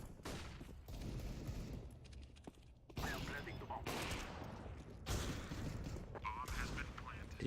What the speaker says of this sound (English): You heard this guy shooting.